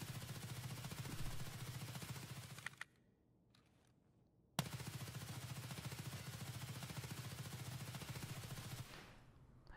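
Suppressed HK rifle fire in the Escape from Tarkov video game, a loud, dense run of rapid shots that breaks off for about two seconds, then resumes as another long continuous burst before ending.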